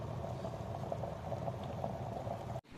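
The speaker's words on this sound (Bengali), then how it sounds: "প্রথমে জলটা গরম করে এর মধ্যে চিনি দিয়ে দিয়েছি" Water with sugar stirred in boils in a pot on a stove for making coffee, a steady close bubbling simmer with soft popping that cuts off abruptly near the end.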